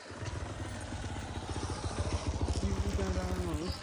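A motorcycle engine runs in a forest in Nuwakot, Nepal, a throbbing mid-pitched drone that rises in pitch toward the end, with voices talking over it.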